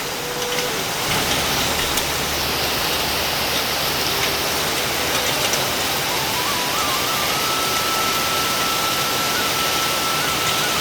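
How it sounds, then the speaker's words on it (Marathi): Heavy monsoon rain pours steadily over farm fields in Konkan, a dense continuous hiss of drops drumming on surfaces, loud and unbroken throughout with no voices. "पाऊस कसला जोरदार इलो बघा जोरदार"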